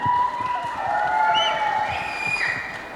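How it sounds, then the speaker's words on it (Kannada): Audience applause with some cheering at a Kaala Patthar film event, a steady wash of many hands clapping throughout, moderately loud, with a faint tonal hum in the background. "ದಯವಿಟ್ಟು ಚಪ್ಪಾಳೆ ಹೊಡೆದ್ರು"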